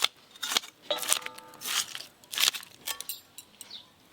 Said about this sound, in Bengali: আগে আঁশটা ছাড়িয়ে নেবো।